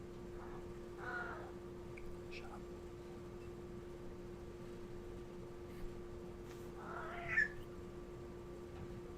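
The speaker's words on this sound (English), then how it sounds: "Yeah, we can hear you, Cat." A house cat meows faintly indoors, with a couple of short, distant cries over a steady mechanical hum and soft room noise.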